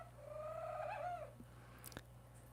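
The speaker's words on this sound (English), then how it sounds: "Sorry, my bird is singing." A pet bird sings indoors in a fish room, giving one soft warbling, cooing phrase that rises and falls for about a second against a steady low aquarium hum, quiet and alone.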